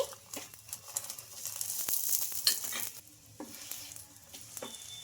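An egg-dipped wheat chapati frying in oil on a pan gives a steady, close crackling sizzle, with scattered spatters and a few soft scraping stirs over about five seconds, no talking.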